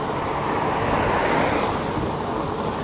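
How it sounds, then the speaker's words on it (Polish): Strong wind blows hard and steadily, a loud roaring rush buffeting the microphone like surf, with no voices over it. "ale wieje"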